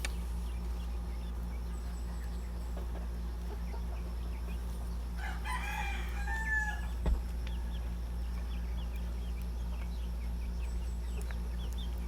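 Farm chickens cluck softly in a net-fenced backyard pen in Bien Unido while a rooster lets out one loud, ringing crow midway, all over a steady low electrical hum.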